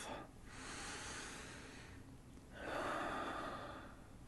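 A person takes a slow deep breath, a soft airy inhale followed by a second longer breath, faint and close with no speech.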